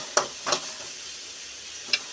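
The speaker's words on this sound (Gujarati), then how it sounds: "એટલે કારેલા ફર્સ્ટ ક્લાસ તેલમાં તળાય છે." Bitter gourd fries in oil under a soft, steady sizzle close by, broken by three short louder bursts of spitting or stirring.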